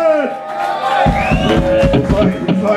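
Live-music audience cheering and whooping for a band at Bedford Esquires, a dense, loud crowd roar swelling after a brief sustained tone and carrying steadily to the end.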